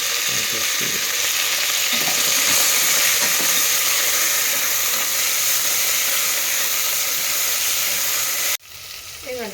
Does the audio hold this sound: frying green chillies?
yes